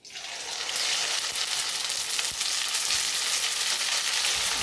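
Mustard seeds hit hot oil and crackle, building within half a second into a loud, continuous sizzle and spatter that holds steady to the end, with no voices.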